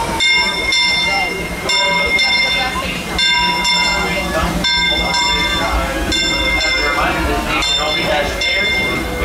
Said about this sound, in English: our train's here